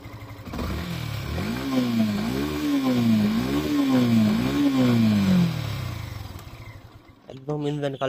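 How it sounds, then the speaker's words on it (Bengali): A 2023 Yamaha FZS version 2 motorcycle with about 9,662 km and a fresh engine, revved up and down in four or five smooth swells near the microphone before dropping back and cutting off, followed by a short burst of other noise. "গাড়িটার ইঞ্জিন সাউন্ড কোয়ালিটি সম্পর্কে যদি আপনাদের একটু"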